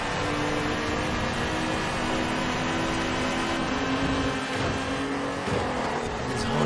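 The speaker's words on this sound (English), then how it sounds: "raspy with this raspy exhaust. Just a typical Honda sound." A Honda race car's raspy exhaust drones loud and steady in Forza Horizon 4, engine holding high revs through a race with slight pitch shifts and faint tire noise underneath.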